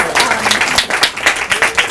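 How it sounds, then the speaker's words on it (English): An audience at a college talk claps for administrative assistants, with loud, close, uneven clapping and a voice speaking underneath. "I just wonder if you could all join me in giving them a round of applause"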